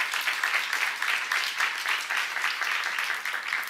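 A church congregation breaks into steady, dense clapping that fills the whole stretch at an even, moderate level, with no voices standing out above it.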